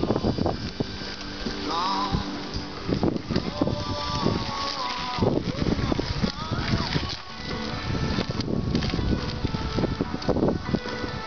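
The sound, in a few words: wind blowing by a lake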